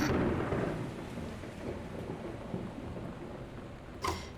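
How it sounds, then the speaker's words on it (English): Loud thunder rumbles through a stormy scene in the video game Gone Home, with a rain-like wash throughout and a sharp crack near the end. "That's some really loud thunder."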